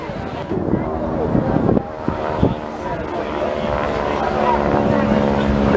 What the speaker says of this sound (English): Harvard, as I said, provides a perfect stepping stone for the more advanced aircraft.